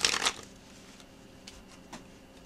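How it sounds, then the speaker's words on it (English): A short burst of riffled playing cards at the start, followed by a couple of faint taps and shuffles in an otherwise quiet room. "But now, let me shuffle these back in"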